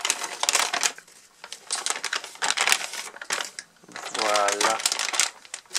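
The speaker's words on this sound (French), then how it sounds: "Je vais déjà la sortir de son emballage." An ASUS GTX 670 DirectCU II graphics card being pulled out of its packaging, giving close, crisp crinkling and rustling of plastic and cardboard in bursts, with someone speaking French briefly between them.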